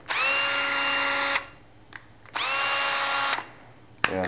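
A used, dirty Milwaukee cordless drill running in two bursts of about a second each, a loud close high-pitched whine that spins up and stops, followed by a short start of a third run.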